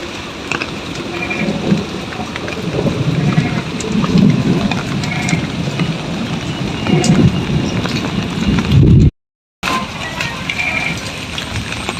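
Heavy rain pours steadily during a cyclone storm in rural Bengal, a loud dense wash with low rumbling beneath, continuous throughout apart from a brief dropout near the end.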